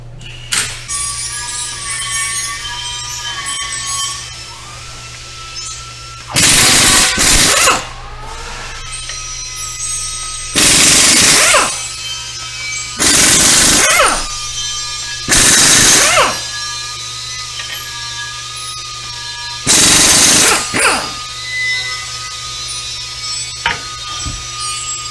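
Power tool, likely an impact wrench, removes wheel bolts on a Genesis GV80 suspension in a shop: five loud, bursts of a second or two, separated by quieter gaps with faint background hum.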